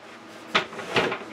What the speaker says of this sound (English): you're gonna have to remove the top drawer in order to do this